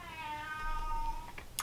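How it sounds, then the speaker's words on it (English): A house cat meows once in a drawn-out, wavering yowl, close and fairly clear, followed by a couple of faint knocks in a quiet room. "That is my cat."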